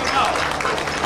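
Audience applause at a live Las Vegas performance, a dense steady wash of clapping heard only briefly, moderately loud and unbroken.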